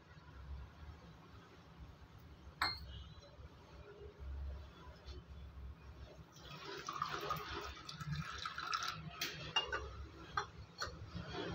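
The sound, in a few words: pouring filter coffee decoction into tumbler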